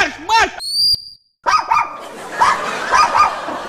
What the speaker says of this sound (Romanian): Nu mai zi o vorbă, că latră la fluieratul tău!